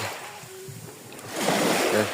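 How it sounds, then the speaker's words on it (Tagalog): Water sloshing and splashing as someone wades through it, growing louder partway through, with broadband wash of moving water up close. "Lulusong tayo sa tubig."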